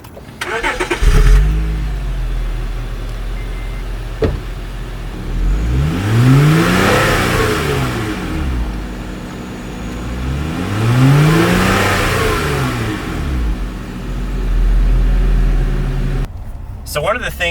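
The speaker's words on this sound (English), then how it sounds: "So let's start it up and see what the exhaust sounds like." A 2004 Acura TL third-generation sedan with dual exhaust cranks and starts, then settles into idle and is revved twice, each rev a smooth rising and falling swell, loud and close, with brief talk before the start.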